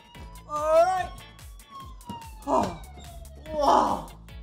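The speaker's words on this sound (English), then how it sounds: "And we have the siren." A police car siren at a children's museum wails in a long, slowly falling tone, loud and close, while excited voices exclaim over it.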